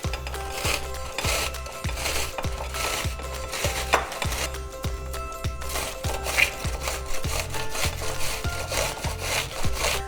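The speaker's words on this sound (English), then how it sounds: "grating the onion, is create these little tiny pieces of intense flavor, as well as kind of a bit of liquid that comes out of it" An onion rubbed on a metal grater for turkey burgers, making steady rhythmic rasping strokes, close and continuous, roughly two per second, with no voices.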